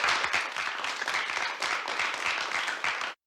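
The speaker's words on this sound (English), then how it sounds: "I have literally dozens of applause samples that I got from the BBC library" A crowd applauds steadily, dense overlapping hand claps at an even level for a few seconds before stopping suddenly.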